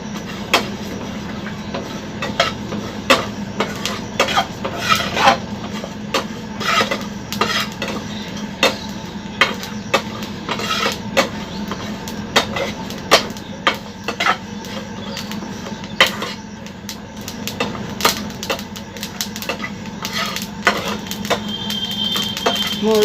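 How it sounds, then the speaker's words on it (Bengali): Fennel seeds dry-roasting in a pan while being stirred for a sweet Fazli mango pickle. Quick, irregular scraping clicks of the spoon against metal sound close over a low, steady background hum. "এখন আমি ভেজে নিচ্ছি মৌরি"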